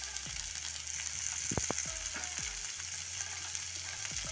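Chopped capsicum and tomato frying with lightly cooked onions for spicy Maggi noodles, a steady hissing sizzle with a few brief utensil scrapes and knocks, close and fairly soft.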